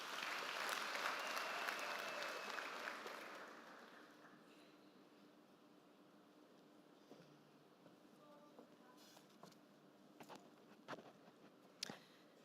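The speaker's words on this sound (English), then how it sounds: "Can you give a round of applause?" A graduation ceremony crowd gives a round of applause that is strong at first and fades away after a few seconds, leaving quiet room noise and faint knocks.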